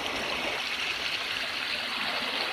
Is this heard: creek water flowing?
yes